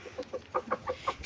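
A hen clucking, a short run of about six or seven soft, evenly spaced clucks, close and alone with no voices.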